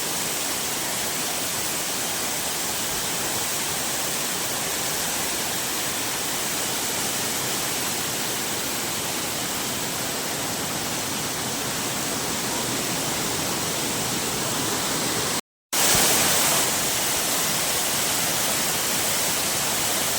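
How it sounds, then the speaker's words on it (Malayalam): Constant roaring rush of Manneera waterfall in forest near Konni, Kerala, broad and unchanging, with a brief cut near the end before the roar resumes. "ഒരു വെള്ളച്ചാട്ടമാണ് മരത്തിന് നടുവിലുള്ള ഒരു വെള്ളച്ചാട്ടമാണ്"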